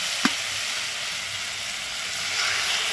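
Water poured into a pan of fried katla fish masala with winter vegetables like beans and cauliflower sets off a steady, close hissing sizzle after a brief splash at the start.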